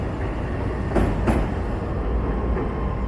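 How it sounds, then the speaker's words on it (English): A Chicago train rumbles past close by, a steady low roar with brief louder clatters, mixed with city traffic noise and no talking. "I'm not sure if you can hear me when there's the loud train and traffic noises going by."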